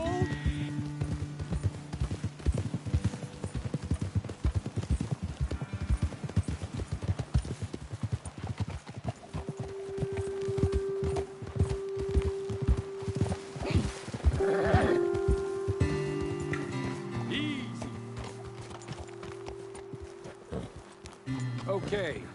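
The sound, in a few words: horse hooves clip-clopping, from a video game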